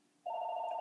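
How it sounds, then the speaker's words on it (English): A telephone begins ringing after a short quiet, a single clear sustained electronic tone, fairly faint and alone. "let me answer the phone"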